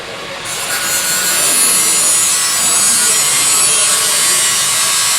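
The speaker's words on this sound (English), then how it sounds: "I'm going to grind now" A grinder cuts slits into the body of a Model T coupe hot rod. The cutting is a loud, close, steady abrasive hiss and whine that starts abruptly and holds without pause.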